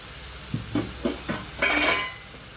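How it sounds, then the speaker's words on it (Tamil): Broccoli, mixed vegetables and soy chunks cook in a pan: a few soft stirring knocks, then a louder burst of steamy hiss that fades. "ஆனால் நம்மளுக்கு இப்போ இந்த வெஜிடபிள்ஸு மீல் மேக்கரெல்லாம் இருக்கிறதுனால கொஞ்சம் வேக வைக்கிறேன் நான்"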